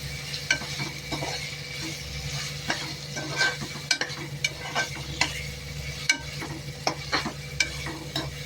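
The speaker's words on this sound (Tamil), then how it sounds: "இப்படியே வந்து நல்லா பச்சையாக இதுலேயே நம்ம வதக்கிடலாம்." Raw ground masala sizzles in a pan while being stirred for chicken biryani. A steady frying hiss runs under intermittent scraping and clinking of a spoon against the vessel, heard up close.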